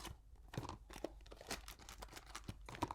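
Cricut craft supplies such as cardstock and transfer sheets being unwrapped by hand, with close, quiet bursts of crinkling and tearing plastic packaging in irregular rustling bursts.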